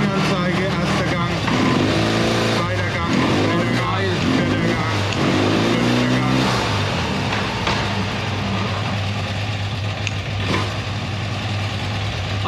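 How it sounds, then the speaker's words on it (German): A classic BMW two-valve boxer motorcycle sits propped on its stand in first gear, with the rear wheel turning. Its steady, low idling hum continues throughout, partly under someone speaking nearby. "Erster Gang, Hinterrad dreht sich"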